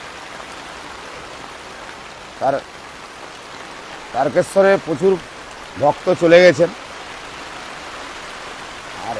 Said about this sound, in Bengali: আর এই সকাল থেকেই অজন্য এনে বৃষ্টি, যেন আকাশ ফুটো হয়ে গেছে, বৃষ্টি হতেই আছে।